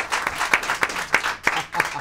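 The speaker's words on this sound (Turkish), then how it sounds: "Alkışlarınızla." Studio audience at a Turkish game-show final applauding a contestant's win, a brief burst of dense clapping with rhythmic peaks, fairly close and unaccompanied by speech.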